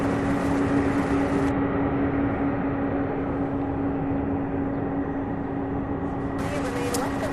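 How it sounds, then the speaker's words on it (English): An MD-11 freighter taxis out of a ramp at UPS Worldport, Louisville, as a steady, moderately distant jet-engine drone with a constant hum that holds evenly for the whole stretch. "Another MD-11 coming out of ramp 5."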